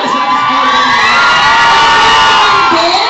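Loud, dense crowd shouting and cheering at a mall event at Robinsons Metro East, with high-pitched voices and whoops sustained throughout without a break.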